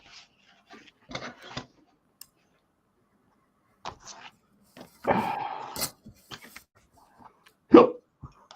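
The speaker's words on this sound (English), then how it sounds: "Oh, hiccups." A few sharp, abrupt hiccups scattered through a quiet indoor scene, short isolated bursts with silence between them, one louder near the end.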